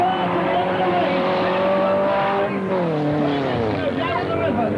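A demolition derby car spins out at a citizens band club event, tires squealing in a sustained wavering screech over revving engine noise, with an announcer talking over it.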